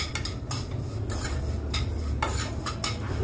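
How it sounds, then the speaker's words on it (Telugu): A spoon scrapes and clinks against a pan while ingredients are fried in ghee for jaggery payasam, producing a series of sharp metallic strokes over a low, steady background hum. "ఇలాగా ఫ్రై చేసుకోవాలన్నమాట"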